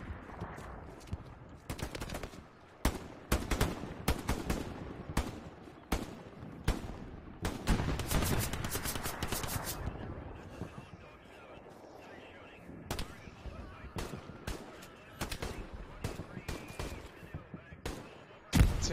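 Gunfire in the video game Jarvenhill: sharp, loud single shots and rapid automatic bursts ring out irregularly over roughly nineteen seconds, with quieter gaps of ambient game sound between volleys.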